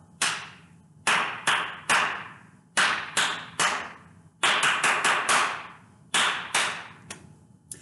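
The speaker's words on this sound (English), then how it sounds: "just look at those black notes and clap what you see" Hands clap out a written rhythm from a music lesson, about twenty crisp, close claps in uneven groups with short pauses between, no talking.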